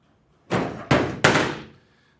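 Three solid thunks in quick succession as the door of a 1941 Mercury with a chopped top is shut and worked into line, each hit near and loud with a short ringing decay, in a quiet shop.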